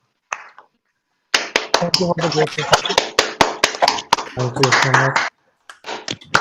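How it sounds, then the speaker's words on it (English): Participants in an online meeting applaud, sparse sharp claps scattered over several voices calling out thanks, close and fairly loud before trailing off. "give a round of applause to the speakers"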